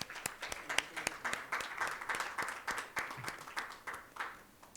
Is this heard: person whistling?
no